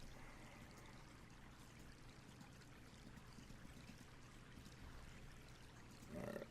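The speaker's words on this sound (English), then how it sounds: "Let's fill our water skin up." Water trickling and pouring steadily as a water skin is filled in Quest for Glory 2, a soft continuous gurgling stream heard alone, with a brief louder splash near the end.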